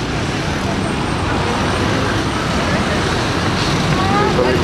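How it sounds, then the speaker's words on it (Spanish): Metrobús express buses and general traffic on the wide Avenida 9 de Julio in Buenos Aires: a dense, continuous roadway roar with engine rumble and tyre noise, steady and close, with no distinct passes standing out. "Colectivos rápidos de Metrobús."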